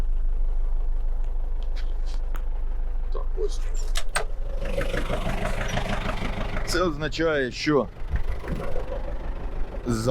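Tractor engine running in a barley field while discing: a steady low rumble throughout, with rattling and clunks of the machinery and someone talking over it.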